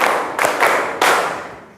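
Group clapping exercise in which a class claps a five-beat pattern together: three loud, sharp ensemble claps in quick succession, close and dense, with no talking.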